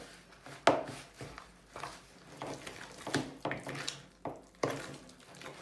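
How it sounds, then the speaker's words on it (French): Banana cake batter stirred by hand in a bowl for a quick express cake, with irregular scraping and knocking of the utensil against the bowl, several louder clacks standing out over a soft background. "Oui, il faut mélanger."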